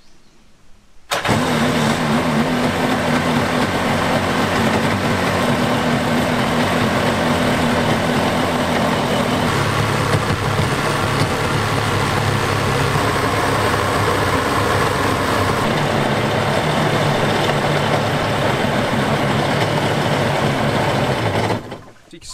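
A 1991 Kawasaki VXR 650 jet ski engine starts after a brief pause and runs loud and steady in a yard for about twenty seconds, then cuts off at the end.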